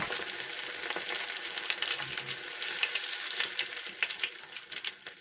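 Steady crackling sizzle of tofu deep-frying in hot oil, turned for even cooking, a dense, close hiss with small pops, no voices.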